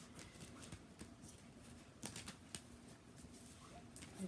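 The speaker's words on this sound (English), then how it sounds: "while I'm shuffling this deck" A deck of tarot cards is shuffled close by, giving a steady soft papery patter with crisp snaps and riffles throughout, alone without speech.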